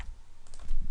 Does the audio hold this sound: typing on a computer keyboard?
yes